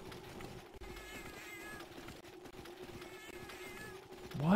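A cat meows repeatedly in the video game Monster Hunter, a series of nasal, mid-pitched cries over low game ambience, moderately close, with a brief louder burst at the end.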